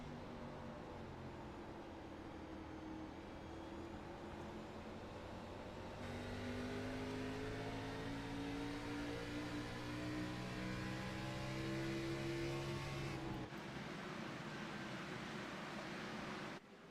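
Onboard engine of Tommy Ryan's Northern Tool No. 99 car in a sim-racing Xfinity Series race at Milwaukee, a loud steady drone whose pitch climbs slowly and then drops with a shift near the end.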